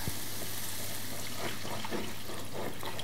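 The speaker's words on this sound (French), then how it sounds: "On couvre d'eau" Water poured over braised vegetables in a soup pot for vichyssoise makes a steady, splashing rush with brief gurgling surges, close and fairly quiet throughout.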